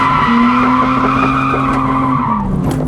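A drift car skids hard on the Achna speedway track in Cyprus, its tire shredding under a loud, sustained squealing roar over the engine drone, running continuously and close for about three seconds.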